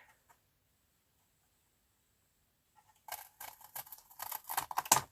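Crisp, close snips of scissors cutting paper for a half spine journal, starting after near silence and running as a quick irregular series of cuts that grows louder, no talk.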